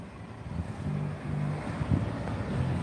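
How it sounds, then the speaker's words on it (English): Steady outdoor wind rumbles and buffets the microphone in gusts for a few seconds, low and continuous with no talking. "The wind's still blowing, but it ain't bad as it was."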